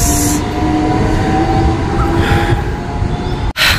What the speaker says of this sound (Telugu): ఇక్కడ ట్రైన్ వచ్చింది, ఇంకా వెళ్ళిపోతుంది కూడా